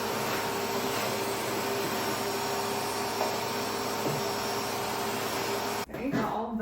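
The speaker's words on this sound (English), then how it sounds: "So let's see if I can just vacuum this out real quick." A vacuum cleaner sucks popcorn out of an olive tree planter, a loud steady whine and roar with faint rattles, cutting off near the end to brief handling noise.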